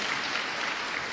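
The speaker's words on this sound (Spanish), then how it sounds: "dele un aplauso al Señor" Congregation applause at a Spanish-language religious program, a steady dense wash of clapping hands throughout, even and sustained.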